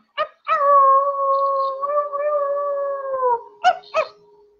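A person mimics a dog, giving one short yelp, a long wavering howl of about three seconds, then two quick barks, loud and close with no other sound.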